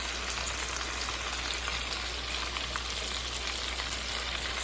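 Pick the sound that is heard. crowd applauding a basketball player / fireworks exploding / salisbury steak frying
salisbury steak frying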